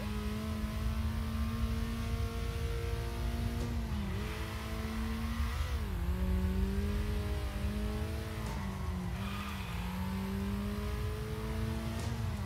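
A rally car engine revs in the racing game Circuit Superstars, a steady buzzing drone whose pitch dips and climbs through gear changes and cornering, with occasional tire squeal, loud and continuous throughout.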